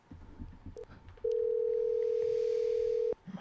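A phone call tone sounds as one long, loud, steady beep lasting nearly two seconds, with quiet talk before it and a voice returning right after.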